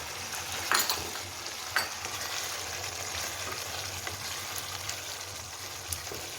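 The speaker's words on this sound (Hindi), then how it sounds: "इसको इस तरह मिक्स करेंगे।" Butter being stirred into chicken malai boti in a pan: a steady soft sizzle with faint scraping and two brief clinks of a utensil, no voices.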